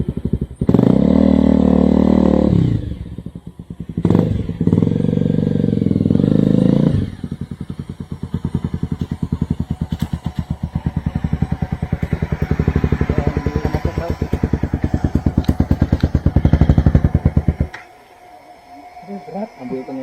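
A motorcycle engine chugs and revs in pulsing bursts on the rough Cisadon trail, with clattering, a sharp cutoff near the end, and people talking over it.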